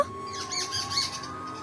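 A bird chirps in a quick series of short, bright tweets over a faint steady hum, fairly close and clear.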